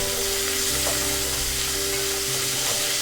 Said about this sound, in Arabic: نضل نقلب لحتى تدبل البصلة معانا.